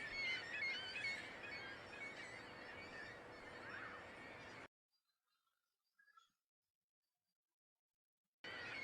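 Seagulls in the fishing game Fishing: Barents Sea squawk and cry densely over a steady background for several seconds, then fall silent except for a short burst, before the game sound returns at the end.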